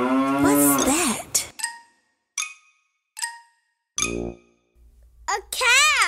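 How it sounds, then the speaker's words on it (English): A cow moos in a long, loud, low call after a short stretch of voice and a few clinking bell-like tones, with another voice rising again at the end. "A cow."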